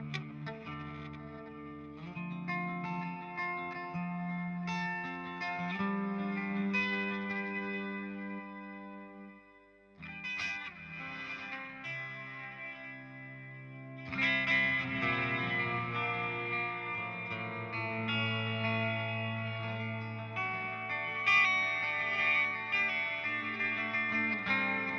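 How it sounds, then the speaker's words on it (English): Electric guitar through a Walrus Audio Melee pedal set to reverse reverb, with notes and chords swelling and smearing into a washy ambient tail, a brief dip near the middle, then denser layered tones building to the end. "now the reverb will be a reverse reverb"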